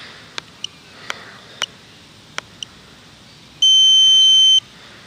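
An RC quadcopter transmitter's timer gives a few short, sharp beeps spaced irregularly, then one sustained tone of about a second. The beeps are loud and close, with no talking and only a faint background hiss.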